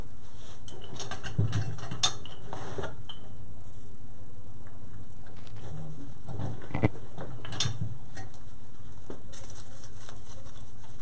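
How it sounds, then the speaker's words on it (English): Floral pick machine pressing a steel pick onto stems for a moss wreath gives scattered mechanical clicks and ratcheting clunks, quiet and close, with soft handling noises between the sharper snaps and no speech. "I'm just going to use my pick machine over here."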